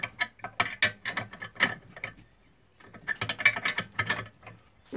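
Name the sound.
tightening a bolt while replacing a control arm bushing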